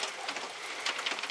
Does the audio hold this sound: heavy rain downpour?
yes